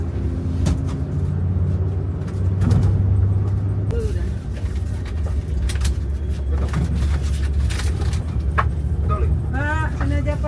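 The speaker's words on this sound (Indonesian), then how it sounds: "Ada bus Buni Sari Indah Mercy OH 1626 dari Palembang menuju ke Pangandaran." A Bunisari Indah Mercedes OH 1626 bus heading from Palembang to Pangandaran rumbles past nearby, its engine droning steadily with road noise and scattered clatter throughout.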